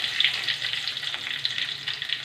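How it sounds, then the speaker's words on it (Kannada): Green chillies and curry leaves frying in hot oil in a home kitchen give a steady, close hiss and crackle that stays even throughout. "ಸ್ವಲ್ಪ ಫ್ರೈ ಮಾಡಿ, ಸ್ವಲ್ಪ ಫ್ರೈ ಆಗುತ್ತೆ ಚೆನ್ನಾಗಿ"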